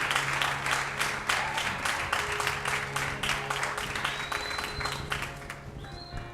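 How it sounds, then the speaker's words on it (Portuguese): A church congregation applauds during a service, with dense, rhythmic clapping that fades somewhat toward the end while faint tones ring underneath. "Você pode aplaudir o Senhor por essa palavra?"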